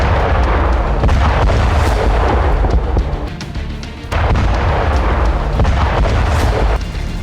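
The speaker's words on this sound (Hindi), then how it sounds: "और फिर हुआ जोरदार धमाका" Heavy, continuous booming blasts from a drone-dropped bomb strike in wartime roll through the whole stretch, loud and dense, with a brief dip before a second surge of rumbling explosions.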